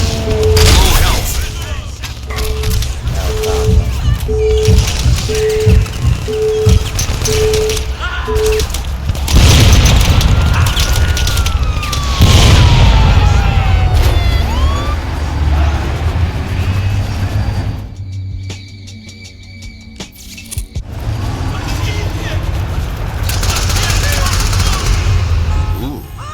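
Gunfire and explosions from the video game Crackdown 3 boom and rattle almost continuously, loud and dense, with brief quieter dips and a steady tone early on, while a voice talks over parts of it.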